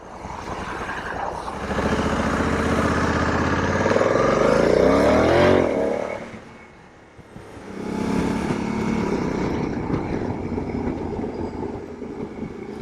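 Honda Africa Twin motorcycle under way, its engine rising loudly through the revs then dropping briefly off throttle before pulling again, with a steady road and wind roar.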